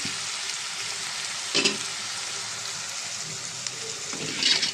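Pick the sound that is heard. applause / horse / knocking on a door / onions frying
onions frying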